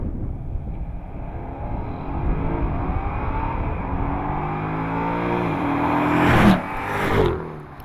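A 2013 BMW 650i and a 2013 Jaguar XK run a 0-60 acceleration test, their engines droning steadily and then rising in pitch through gear changes, with a loud peak and a rush of passing noise near the end.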